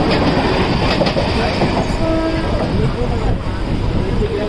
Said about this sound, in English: So this is our train 811. It goes to Bandra, 12 coach Bandra.